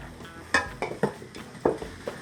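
Flour being mixed into dough in a bowl for homemade hot dog buns: four distinct knocks and scrapes of a utensil against the bowl, close and irregular.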